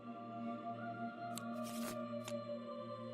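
Virtual playing cards shuffled in Tabletop Simulator during a co-op Kingdom Death: Monster session, a few quick riffling bursts over a steady electronic hum, fairly faint and without talk.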